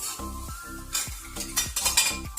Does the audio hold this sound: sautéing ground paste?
yes